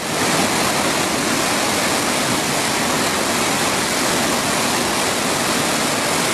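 Water pours over Eternal Flame Falls in Chestnut Ridge Park, New York, as a constant, dense, loud rushing roar with no pauses or other sounds.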